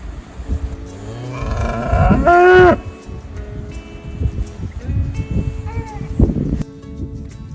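Cattle on a grass-fed beef farm, two steers and a bred cow grazing in shade; one loud, close, drawn-out moo rises over rustling grazing noise, with a fainter moo later.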